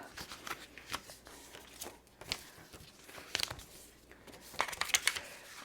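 Paper envelope being folded and creased by hand, with soft crinkling and brushing rustles in short bursts over a few seconds, close and fairly quiet.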